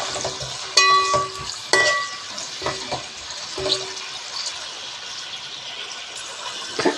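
Onions, mint and green chillies sizzle and fry in a pan for soya keema biryani, a steady soft crackle broken by a few sharp clinks and stirring scrapes.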